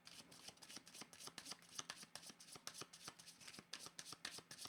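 A tarot deck is shuffled by hand, producing quick, quiet, rhythmic riffles and card flutters close by, with no talking.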